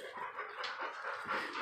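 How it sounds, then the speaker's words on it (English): Close, fairly quiet panting from a dog, breathy rhythmic huffs mixed with thin high whimpers, ending in a sharper yip. "Capone, I'll give you a doggy treat."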